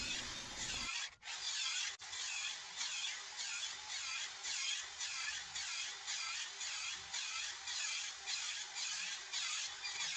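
A saw cutting into a 4x4 wooden post to form a half lap joint, a steady rhythmic rasp of regular back-and-forth strokes, close and continuous with no talk.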